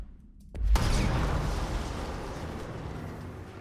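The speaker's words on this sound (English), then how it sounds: "That's a big explosion." A big explosion in the video game Control bursts in suddenly, a deep loud boom that then rolls on as a long rumbling roar, slowly fading without ever dying away.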